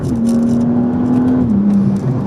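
A BMW F32 435i coupe with its inline six pulling hard in third gear: a loud, steady engine drone that holds its pitch, then dips slightly near the end, heard from inside the car without talk.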